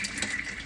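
Water running from a tap in an Orion 530 caravan, a steady broadband gush with no break, close by and fairly quiet, with no talk over it.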